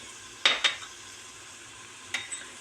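A few spoon scrapes and light clinks sound against a soup pot while spices such as red pepper flakes and black pepper are stirred in, with two quick taps early and another pair later over a quiet background.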